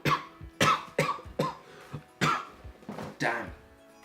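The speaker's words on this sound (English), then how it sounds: "Oh, where did that cough come out of?" Several sharp coughs or throat-clearing bursts in a loose, irregular series, close and fairly loud, with no other speech.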